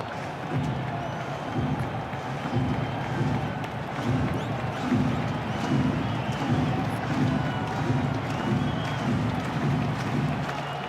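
A baseball stadium crowd at a Brewers versus Yankees regular-season game cheers and claps to rally behind the new closer, a broad sustained roar with rhythmic rises, distant and continuous, with no commentary heard.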